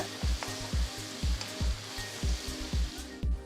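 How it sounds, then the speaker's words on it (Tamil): Two large chopped onions sizzling in hot oil while being stirred to golden brown, with rhythmic low thumps of a spatula roughly twice per second under a steady hiss. "அடுத்து 2 பெரிய வெங்காயம் பொடியை நறுக்கினது சேர்த்து நல்ல கோல்டன் ப்ரௌன் கலருக்கு வதக்குங்க."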